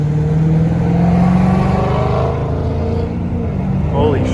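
2020 Dodge Challenger Scat Pack accelerating hard in Sport Plus mode, its engine note climbing in pitch as it pulls, loud and close from inside the car with voices faintly mixed in.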